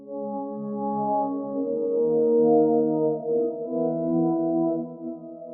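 Big, sustained synth chords from an Electra 2 instrument in FL Studio swell and shift with a sense of movement, played alone with full, steady loudness in a trap beat production.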